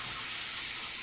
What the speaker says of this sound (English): So I am going to fill up my pan